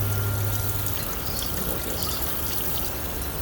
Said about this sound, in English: just rinse that off in cold water